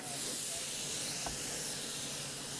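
Closed cell spray foam insulation sprayed onto cathedral ceiling roof rafters from the outside, a steady, loud, unbroken hiss of the spray gun that runs throughout without a pause.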